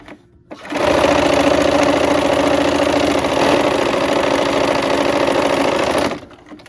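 A sewing machine stitches the short sides of a quilt, starting up after a brief pause and running at a steady, even hum for about five seconds before stopping.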